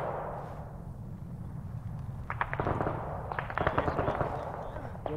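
Rapid bursts of gunfire from armoured BTR vehicles in the Operation Honeybadger video game, set in 2001, crackling in clustered volleys over a low rumbling background, growing denser and louder in the second half.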